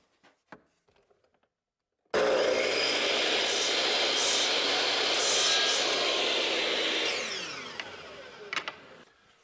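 A power saw cuts a wooden window apron in a woodworking shop: a loud, steady whine runs for about six seconds, then trails off as the blade spins down, preceded by a few faint knocks of handling.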